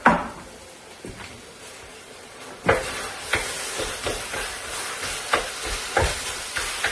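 Chicken sizzles and fries in an electric wok with steady hissing, while a utensil stirs and scrapes the pan in repeated knocks over roughly seven seconds.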